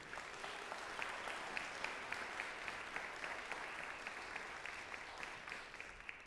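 An audience at a school spring concert claps steadily, a dense patter of many hands throughout, moderately distant and fairly quiet, with no speech over it.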